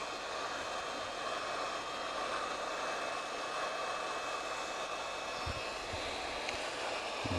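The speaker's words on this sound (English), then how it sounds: "just to dry the ISO, I've got a hot air gun" A hot air gun blows steadily and loudly up close, drying isopropyl alcohol off a phono preamp circuit board. The even rushing hiss lasts throughout, with a few faint knocks near the end and no talking.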